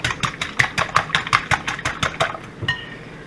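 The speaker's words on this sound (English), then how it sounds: "For the sauce, I'm whisking 2 eggs really well." Two eggs being whisked in a bowl for carbonara sauce: rapid, evenly spaced clicking taps of the whisk against the bowl, close and fairly loud, slowing near the end, with no speech.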